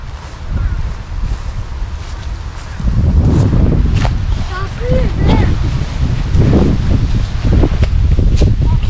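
Steady outdoor wind buffets the microphone with a low rumble throughout, louder after the first few seconds, while voices talk intermittently in Turkish while flying a light toy plane.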